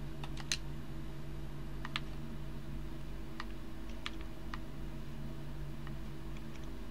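Computer keyboard keys clack in scattered bursts of typing during a Fortnite session, crisp and close over a steady low hum, with no talking.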